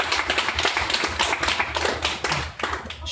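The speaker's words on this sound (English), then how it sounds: "so if we give them a round of applause" Applause at an Affiliate Summit meetup, a small audience giving scattered, uneven hand claps and taps close by for about three seconds, with no talking.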